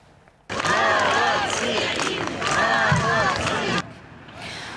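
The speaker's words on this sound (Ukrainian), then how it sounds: "Черкащани на площі зустріли їх оплесками і вигуками." Crowd on a town square in Cherkasy cheers and applauds the returning crew of the minesweeper Cherkasy, a loud burst of clapping and shouting voices that starts abruptly, holds for about three seconds and cuts off.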